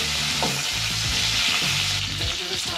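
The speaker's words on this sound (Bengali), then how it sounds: "এরপর আমরা ওই তেলে প্রথমে জিরে দেবো, শুকনো লঙ্কা দেবো এবং দেওয়ার পর আমাদের পেঁপে এর মধ্যে আমরা দিয়ে দেবো" Papaya and vegetable stalks fry loudly in hot oil with cumin seeds and dry chilli, giving a close, continuous crackling sizzle. Low scraping and stirring sounds run underneath.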